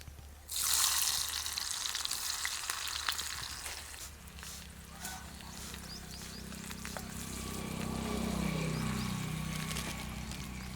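Sliced onion drops into hot oil with cumin seeds in a kadhai, a loud burst of sizzling that settles into a steady close frying hiss with some faint scraping.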